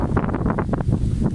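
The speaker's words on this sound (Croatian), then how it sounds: "Evo, vjetar baš puše jako." Strong wind gusting loudly against the microphone outdoors beside a wooden footbridge over a stream, a steady rough rumble with surging buffets and no voices.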